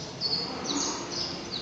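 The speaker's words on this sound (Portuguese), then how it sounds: "Olha o passarinho cantando, que lindo." A small bird chirps in a few quick, high, bright bursts, fairly faint against a steady background hiss.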